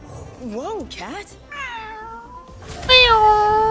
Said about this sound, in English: Whoa, cat.